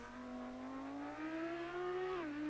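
An Audi R8 EVO GT3 race car with a V10 in Assetto Corsa Competizione at Suzuka drones steadily, its pitch climbing gradually under acceleration before a brief dip at a gear change, loud and close.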